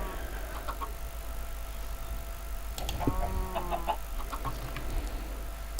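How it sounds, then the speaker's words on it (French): Chickens cluck in the video game Minecraft, a short burst of pitched clucks in the middle over a steady low hum, with no talk. "Il y aura des poulets qui vont tomber."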